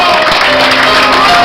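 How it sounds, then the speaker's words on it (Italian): An audience gives Luigi dense, continuous applause that stays loud and steady through the whole brief moment, with some crowd noise mixed in. "Un applauso a Luigi."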